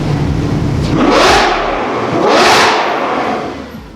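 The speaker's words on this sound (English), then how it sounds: "A Ferrari 812 Superfast revved" A Ferrari 812 Superfast V12 revving loudly outdoors at a supercar event, two rising-and-falling blips of the throttle, each swelling to a sharp high wail before dropping back.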